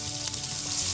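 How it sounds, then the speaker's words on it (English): Small pieces of ginger root and potatoes sizzle in a pan for aloo sabzi, a brief, close, steady frying hiss that swells slightly toward the end. "we're going to add our 1 inch of ginger root. That's been cut up into small pieces. Just mix this around"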